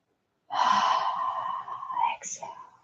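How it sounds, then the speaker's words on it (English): A deep, drawn-out breath during a qigong exercise, one long audible inhale or exhale sounding close and steady, ending with a short extra breath. "Breathing in, breathing out."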